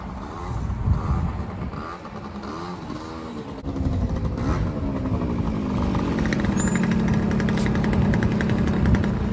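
A Honda Dio 50cc two-stroke scooter engine runs steadily while being ridden to warm up, a continuous buzzing drone with slight shifts in pitch that stays moderately loud throughout, no talking.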